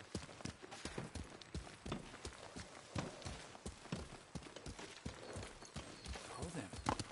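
Horse hooves clip-clop in a steady, quick rhythm from a video game, faint and continuous throughout, with a voice speaking over the hoofbeats.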